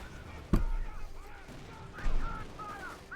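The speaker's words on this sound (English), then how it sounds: "Great hit here on the Panther 4 from the Jackson. 90mm armor pierces the front." In Company of Heroes 2, a Jackson tank destroyer's 90mm gun fires at a Panther, giving two sharp booming hits about a second and a half apart over ongoing battle noise and background voices.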